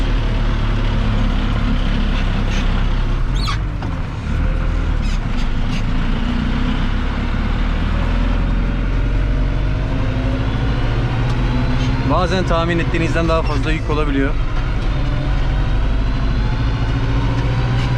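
A tractor of about 120 to 125 horsepower, freshly serviced, runs steadily during a cabbage harvest, its deep, continuous engine drone loud and close throughout, with a person talking over it.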